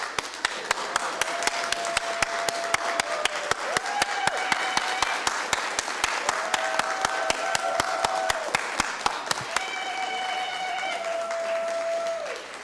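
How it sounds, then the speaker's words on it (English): A Fresno City Council special meeting audience claps together in a sustained burst, with sharp individual claps standing out over a steady wash of applause and a few tonal sounds mixed in. "let's all just clap for that minute"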